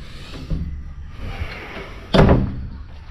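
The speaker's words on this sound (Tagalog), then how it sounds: "Sara lang natin pinto." A house door swings shut with a single sharp slam near the end, after a few quieter knocks and shuffles while crickets chirp softly in the background.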